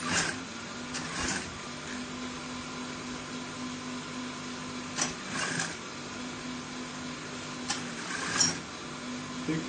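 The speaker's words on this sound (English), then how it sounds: "Sewing this." A sewing machine stitches fabric for a kids' senator top, a quiet steady mechanical whir with a few short bursts of stitching, no voices heard.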